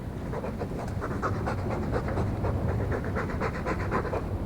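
Steady, rhythmic dog panting from the Dog companion in Dragon Age 2, close and continuous throughout, quick breathy puffs repeating without pause.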